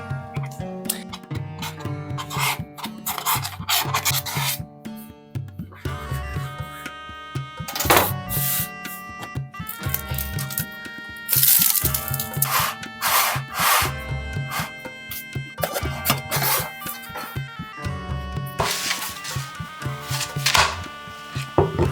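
A knife cuts on a board while shaping food for a red bean hummus plate, giving repeated close scraping and chopping strokes in an uneven rhythm, with a few louder cuts.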